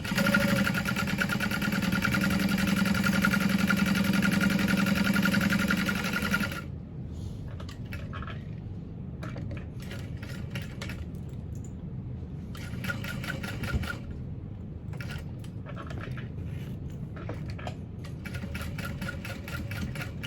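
A sewing machine runs continuously while back stitching a tote bag, then switches to short intermittent bursts of stitching separated by pauses, close and moderately loud.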